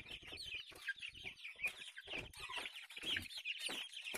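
Mixed-breed dominant hens clucking steadily in a poultry yard, several birds overlapping in busy, continuous calls at close range with no talk.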